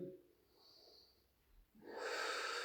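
A deep breath held during a hip flexor stretch: a soft, faint airy exhale early on, then a louder, broad rushing breath that swells in the last second and stays steady to the end.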